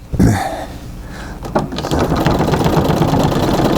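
A treadle sewing machine quilting a full-sized quilt starts up after a few knocks and settles into a steady, close mechanical whir and rattle.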